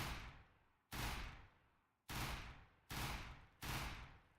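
Video game weapon fired in short bursts from a crouch: four sharp, loud bursts spaced about a second apart, each with a rapid attack and a long fading tail, with no voices.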